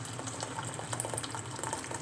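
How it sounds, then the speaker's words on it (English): Hot water pours steadily into a pot of rice for sushi rice, a faint, continuous liquid rush with soft splashy flickers throughout. "we're going to add 2/4 of hot water on this"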